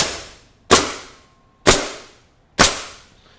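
A MAX SuperRoofer CN445R3 coil nailer firing nails: three sharp, loud pneumatic cracks spaced about a second apart, each dying away quickly, close up with no talk.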